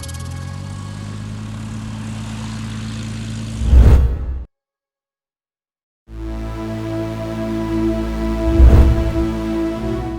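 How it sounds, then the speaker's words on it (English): A Cessna 182E Skylane light aircraft landing and nosing over on the Rio Amazonas at Shelmera, Ecuador. A steady, loud propeller drone swells to two heavy impact bursts, separated by a sudden dropout of sound. "Cessna 182E Skylane crash"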